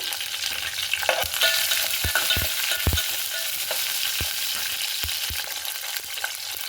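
Curry leaves and red chillies crackle and sizzle in hot oil for a tomato rasam tempering, a steady close fry hiss broken by sharp irregular pops and spatters, with no voices.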